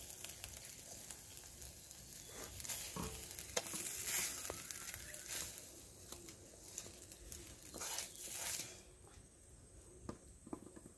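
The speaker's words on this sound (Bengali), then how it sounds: "আমার কচুর শাক ভাজা হয়ে গেছে বন্ধুরা, এই দেখুন, কাঁকড়া দিয়ে কচুর শাক।" Taro leaves cooked with crab fry and get stirred in a pan, giving a faint, steady sizzle broken by scraping stirs and soft clatters, with no talking.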